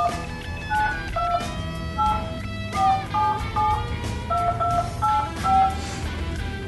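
Touch-tone keypad beeps sound as a home phone number is dialed, a quick series of short, crisp tones in uneven bursts, close and clear over faint background noise.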